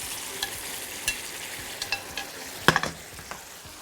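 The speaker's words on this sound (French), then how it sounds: "Et je vais rouler mes petits maquereaux dans la sauce épicée" Browned mackerel pieces rolled through a spicy tomato sauce in a pan, giving soft scraping and clinking utensil strokes at irregular intervals over a low, steady sizzle, with a sharper clatter near the end.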